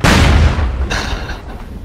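A gun turret blowing up in the SOCOM: Combined Assault video game: a loud, close blast with a booming low rumble that fades into crackling debris over about two seconds.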